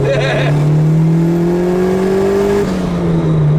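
A boosted B20B engine in a 1995 Honda Civic EJ coupe pulls hard under acceleration, with a loud, continuous engine drone rising steadily in pitch before easing slightly near the end.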